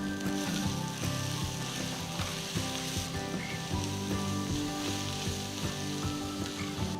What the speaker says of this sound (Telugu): ఇవన్నీ వేసిన తర్వాత ఒకసారి బాగా మిక్స్ చేసేయాలి